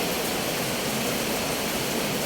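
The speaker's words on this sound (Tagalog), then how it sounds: "Umuulan ngayon dito sa amin" Heavy rain pours steadily, a dense, constant hiss with no pauses and no voices.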